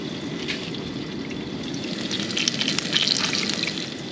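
Food coated in batter sizzles steadily in a pan at a solo beach campsite near Ningaloo Reef, a continuous close crackling hiss with faint clinks of tongs and no talking.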